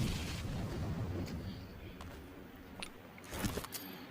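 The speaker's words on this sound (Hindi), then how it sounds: "अब देखिए यहाँ एक उसने ग्रेनेड डाला" A grenade blast in PUBG Mobile gameplay: a continuous rumble of low game noise, with a sharper, louder boom near the end, close by.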